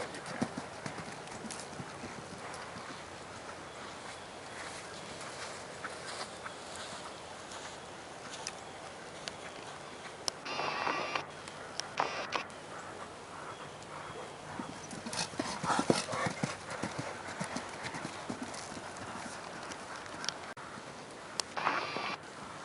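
A horse canters in an arena, its hooves clip-clopping in an irregular rhythmic patter at a moderate distance, with occasional louder thuds and some background noise.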